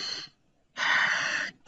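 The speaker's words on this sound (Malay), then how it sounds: "Bosan, tarik nafas." Two quick breaths during a breathing exercise: a short airy intake, a pause, then a longer, louder, deeper breath in lasting nearly a second, close and clear with no talking.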